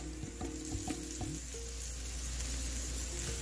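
Boiled mashed potatoes dropped into a pan of hot spices for samosa filling sizzle and crackle, with a few stirring knocks early on, then a steady close frying hiss.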